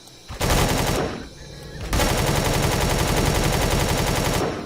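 Rapid automatic gunfire in the Empyrion video game as a player shoots at a tribe of villagers: loud, dense bursts of shots that pause briefly, then resume in a sustained volley.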